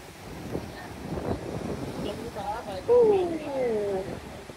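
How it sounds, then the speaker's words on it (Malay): Strong wind roars and buffets the microphone beside Niagara's Horseshoe Falls, a steady rushing noise carrying spray and water sound, while a person talks over it throughout. "Oh, kuat tak kuat angin air dia."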